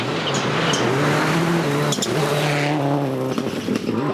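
A factory Subaru WRC-spec rally car driving hard on a gravel stage, its engine loud and steady with rising and falling revs between gear changes, close and continuous, with no voices.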